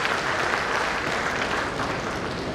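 An audience at a Lions Clubs International district event claps steadily, a dense, even burst of applause from many hands, loud throughout with no voices.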